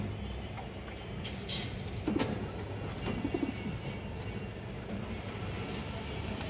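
A pair of old-line curved-beak pigeons cooing softly in short, rolling phrases, a few calls standing out over steady low background noise.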